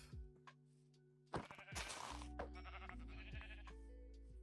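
Minecraft sheep bleat loudly several times over a steady electronic music backdrop, the calls wavering and overlapping, with a few soft clicks between them.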